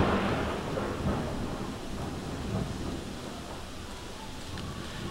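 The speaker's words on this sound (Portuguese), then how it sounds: "Eu acho que a chuva tá da hora lá fora, hein?" Rain and thunder outside in the Silent Hill 2 video game: a dense, steady downpour hiss with a low rumbling roll of thunder underneath, continuous and fairly loud throughout.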